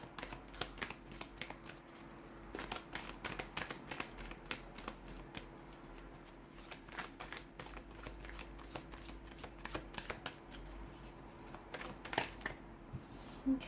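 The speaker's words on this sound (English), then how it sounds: "let's go ahead and give the cards a shuffle" Tarot cards being shuffled close up, a long run of quick crisp riffling and flicking clicks in irregular bursts, fairly quiet, over a faint steady hum with no voices.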